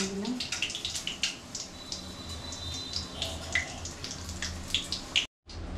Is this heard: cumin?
yes